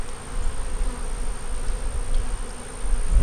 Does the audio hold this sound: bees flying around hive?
yes